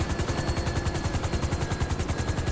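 A helicopter lands on a rooftop in GTA Online, its rotor giving a loud, rapid, evenly pulsing thump close up, with no talk.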